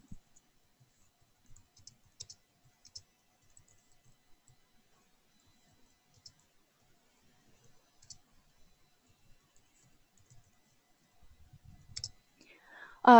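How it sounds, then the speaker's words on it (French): Sparse, faint clicks of typing on a computer keyboard while composing a social media post, scattered irregularly over near silence, with soft whispery voice sounds and a brief louder noise at the very end. "pour créer un post, vous pouvez juste taper un texte"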